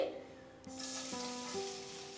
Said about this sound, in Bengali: রসুনটা দেওয়ার পরে 30 সেকেন্ড মতো আমি এটাকে ফ্রাই করছি মিডিয়াম আঁচে।